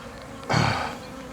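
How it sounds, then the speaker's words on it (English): Honey bees return to small hives, zipping past close overhead; a low steady hum of many bees swells suddenly as one flies near, then fades back into the background drone. "There's lots of bees coming back. Above my head, diving in."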